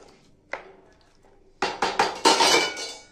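Metal spatula clanking and scraping against a pan while fish is stirred, a few isolated taps followed by a quick run of loud, close, rhythmic clinks and scrapes.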